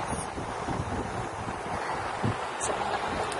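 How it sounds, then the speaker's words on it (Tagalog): Wind gusts blow outside at Sunset Beach Resort in Iloilo, a steady broadband rush with microphone buffeting, close and moderately loud, with surf-like roar underneath and no voices. "Mahangin sa labas"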